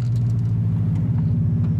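Subaru four-wheel-drive car engine drifting, a loud, steady low rumble that fills the whole stretch without a break, close up and with no talk over it.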